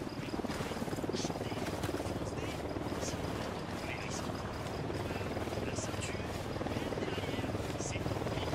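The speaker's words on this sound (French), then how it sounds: "Hélico de l'Unidad en approche." Unidad enemy helicopter approaching in Ghost Recon Wildlands, a continuous rotor drone and engine rumble under steady game ambience and occasional voices, holding a constant level throughout.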